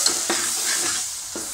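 Besan mixed with ground masala is stirred in a pan for misal, giving a soft continuous sizzle broken by a few scraping stir strokes, close and steady with no voices.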